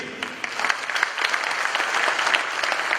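A crowd at an arts awards ceremony claps for the Asante king in a sustained burst of applause, steady and fairly loud, with no talking over it.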